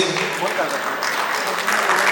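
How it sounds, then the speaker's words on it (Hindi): A crowd at an awards ceremony claps continuously, a dense steady patter of applause filling the room with a voice speaking underneath. "उनके लिए एक बार जोरदार तालियां।"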